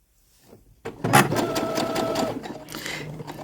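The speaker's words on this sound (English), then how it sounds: "typically what you do is you start sewing your fabric" A sewing machine starts up and stitches fabric, whirring in a fast, even mechanical rhythm close by for about two seconds before slowing to a stop.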